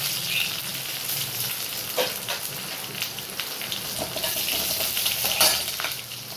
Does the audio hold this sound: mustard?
yes